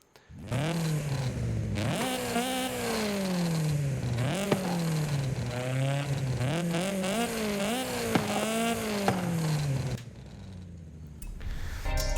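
A tuned Nissan Pulsar in Forza Horizon 5 revs hard and loud through repeated rising pulls and quick shifts for about ten seconds, with a crackle of blowback, then settles to a low idle.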